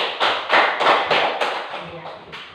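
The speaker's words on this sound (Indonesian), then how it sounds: "Iya, tepuk tangan dulu." A class of schoolchildren clapping their hands together in a series of sharp, rhythmic bursts, fairly close and loud, with a little chatter mixed in.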